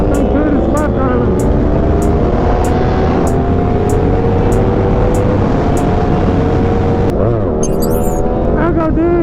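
A motorcycle engine drones steadily through a busy street-riding scene in Dallas as a rider pulls a wheelie. Other traffic adds to the noise, and voices talk over the continuous loud motor.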